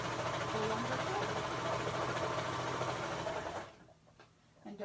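A serger sewing machine runs steadily on a quilt-as-you-go project, a fast even whirring hum for several seconds that stops abruptly, leaving quiet room sound and faint handling noises.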